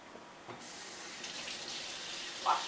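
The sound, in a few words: water running from tap while washing hands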